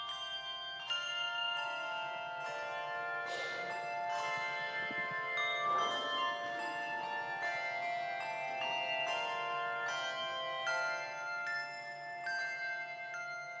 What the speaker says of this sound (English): sound of bells ringing makes for the perfect background music for Christmas